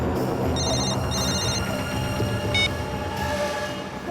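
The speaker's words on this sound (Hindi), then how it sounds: "फोन उठाओ और उसी से पूछ लो" A telephone bell rings in short repeated bursts over a constant rumbling, rattling background like a moving train.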